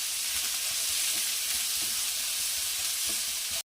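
Soaked chana dal, onions and green chillies sizzle steadily in hot oil, a close, continuous frying hiss that runs without pause until it cuts off abruptly.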